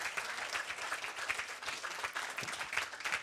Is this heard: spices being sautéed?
no